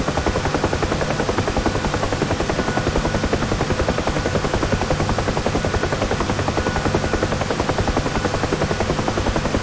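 Simulated UH-1 Huey helicopter in DCS World, its rotor beating in a steady, loud, continuous rhythmic thump with turbine whine throughout, heard alone without voices during a landing approach.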